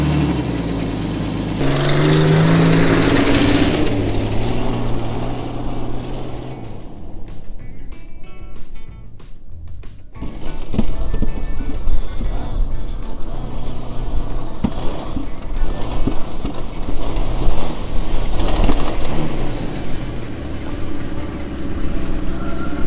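A Jeep Comanche engine runs in a shop, first a loud steady drone, then a brief lull with clicks, then a rougher, uneven running rumble that continues near and loud to the end.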